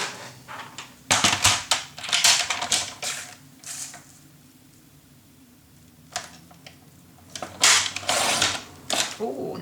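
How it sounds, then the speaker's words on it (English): Paper being cut to frame size for a papercraft project, bursts of crisp crunchy cutting and rustling up close, separated by a quiet pause mid-way. "And I measure the same size as our frame and cut it away."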